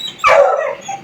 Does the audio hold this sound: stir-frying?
no